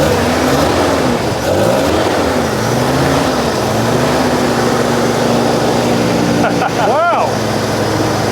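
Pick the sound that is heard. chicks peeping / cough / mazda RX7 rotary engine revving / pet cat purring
mazda RX7 rotary engine revving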